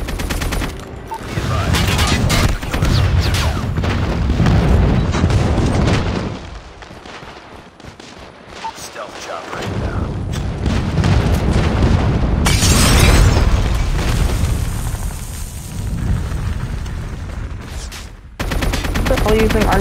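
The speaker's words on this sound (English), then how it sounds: "Friendly airstrike incoming." Video-game combat: dense bursts of gunfire and booming airstrike explosions play loud and continuous, with a brief lull in the middle before heavy blasts resume.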